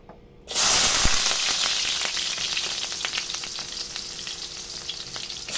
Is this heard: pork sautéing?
yes